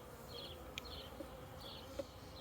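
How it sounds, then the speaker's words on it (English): Honey bees on a hive frame make a faint, steady buzz with a few brief higher whines as individual bees pass close, and no one speaks. "Lots of emerged bees walking around."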